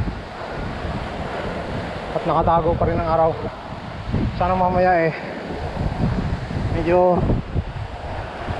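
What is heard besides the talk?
strong wind outdoors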